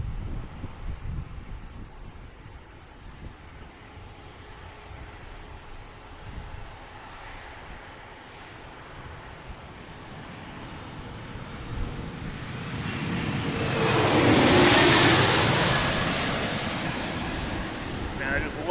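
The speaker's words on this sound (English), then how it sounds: "And we have a plane coming in." A passenger airplane arriving from Birmingham approaches to land at DCA, its engine roar building from a distant rumble to a loud, close swell before easing off, with wind buffeting the microphone throughout.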